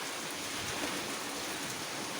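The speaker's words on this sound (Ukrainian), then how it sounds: "Показала вам, яка злива літня йде" Heavy summer downpour, a dense, steady hiss of rain pouring down loud and close without a break, no voices heard.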